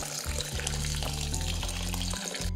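Soaked rice and lentils being rinsed under running water, a close, steady splashing and trickling with small bumps of stirring for a couple of seconds.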